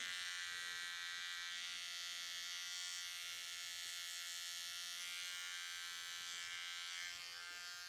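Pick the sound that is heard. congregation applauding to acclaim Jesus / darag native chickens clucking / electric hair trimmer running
electric hair trimmer running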